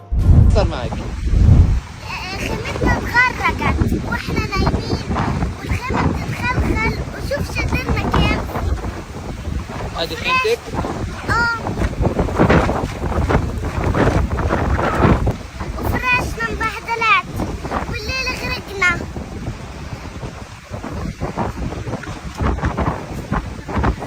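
Storm wind and rain lash a tent camp in Gaza, a loud, rough roar of gusts buffeting the microphone throughout, with voices talking beneath it.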